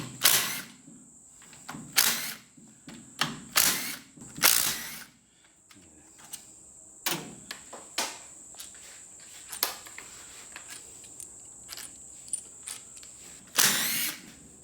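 A ratchet works loose the valve body bolts on an abandoned Turbo 400 automatic transmission, giving close, sharp bursts of mechanical clicking in irregular spurts with short pauses between them and no talk.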